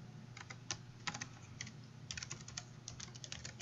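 Fingers type on a computer keyboard while entering login details into a developer tool, producing quiet, close clicking keystrokes in uneven bursts over a low steady hum.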